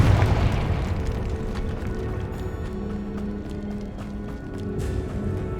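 The Confringo explosion spell in Hogwarts Legacy, a loud booming blast that opens strongly and decays into a rumbling, crackling tail with scattered pops.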